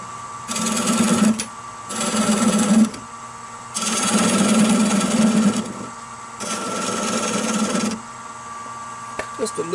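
A wood lathe turns a mesquite bowl at 580 RPM, with tool cuts coming as repeated loud rasping bursts a couple of seconds long, separated by quieter stretches of steady motor hum.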